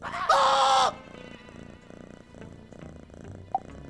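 A cartoon cat purrs in a loud, rough burst lasting under a second, followed by a steady low background of music and ambience.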